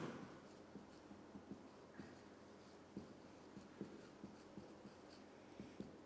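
A pen or marker scratching out short strokes on a board during a physics lecture, faint and close, in quick irregular taps and scrapes with no talk over it.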